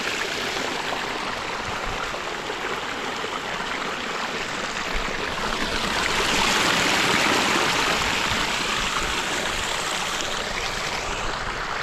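Irrigation water gushing strongly through a farm channel beside a field of ripening crop, a loud, steady rushing flow that swells a little midway and runs without talk.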